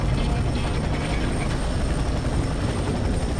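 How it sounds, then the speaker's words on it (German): A helicopter in the shooter game FEAR 3 produces a dense, steady rotor roar with a rapid rhythmic chop, loud and filling the scene without pause. "Heli."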